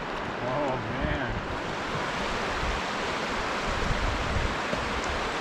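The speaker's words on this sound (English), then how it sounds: "The river constricts, and there's a set of rapids up here that we can hear." Steady, roaring rush of river rapids where the river narrows in the Canadian wilderness, loud and continuous throughout, with a faint voice briefly underneath early on.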